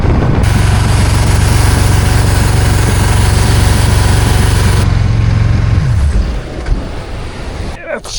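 A 1970s big block jet boat engine runs loud and steady on choppy water at slack tide, a deep rumble that refuses to settle to a low idle before dropping away near the end.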